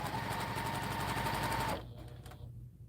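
A sewing machine runs fast and steady as it stitches nested seams on a quilt block, then stops abruptly, leaving a faint room hum and a few light clicks.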